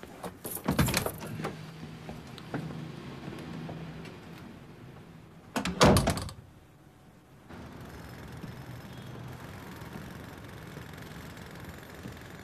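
Keys jangle twice as a door is unlocked and opened, short metallic bursts close by, followed by a low steady idling engine hum in the background.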